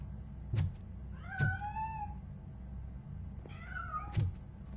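Two drawn-out, wavering cat meows a couple of seconds apart, fairly clear over a low steady background hum with soft repeated thumps.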